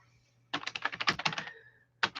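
Fast typing on a computer keyboard, a quick close burst of about a dozen clacking keystrokes followed by a pause and a second short flurry, with no talk over it.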